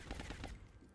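Rapid burst of gunfire in the XCOM strategy game aimed at an elite sniper, several close sharp shots in quick succession that fade into a decaying tail.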